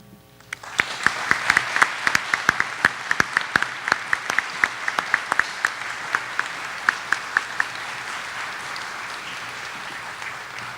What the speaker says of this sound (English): one more round of applause for our faculty members